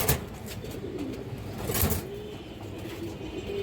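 Lal chulli pigeons coo softly and low beneath a steady wash of background noise at a pigeon seller's spot.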